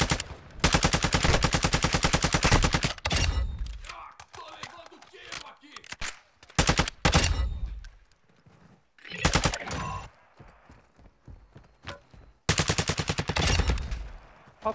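Gunfire in Warzone 2.0 DMZ: loud bursts of automatic fire, several long rapid volleys and shorter strings with pauses between, near and harsh, with a player talking in the quieter gaps.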